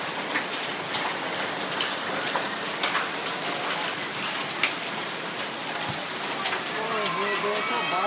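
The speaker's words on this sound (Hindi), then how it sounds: "बहुत ही तेज बारिश ने मैं कहता हूँ जोर पकड़ लिया और गड़े भी देखे आप" Heavy rain pours steadily on hard surfaces in Lahore during a storm with hail, a dense continuous hiss with scattered sharper drop and pellet impacts throughout.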